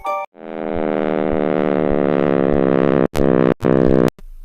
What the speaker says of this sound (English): This is the sound of the universe being born,